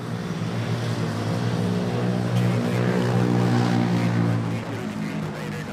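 A Cathay Pacific airliner in oneworld livery moves at Manila Airport, a loud, steady jet engine roar with layered droning tones that swells slightly midway and then eases.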